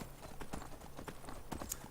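Hooves of a stolen horse in Skyrim clip-clop steadily as it wanders off, a clear repeated walking rhythm at moderate level with faint background ambience.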